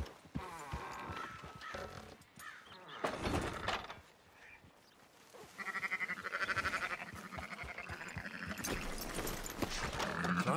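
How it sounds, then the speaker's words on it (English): Sheep bleating among horse hooves and animal sounds in the video game Red Dead Redemption 2, several wavering bleats over clip-clop and ranch ambience, fairly quiet with no talk. "Fine sheep."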